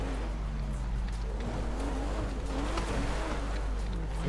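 A car drives steadily in GTA V, its engine a continuous low hum with wavering pitch and road noise, close and fairly loud with no talk.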